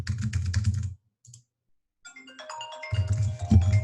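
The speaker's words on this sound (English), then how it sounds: "We're just typing in stuff." A rapid burst of keyboard typing, then a pause, a short electronic chime, and more clattering keystrokes close by.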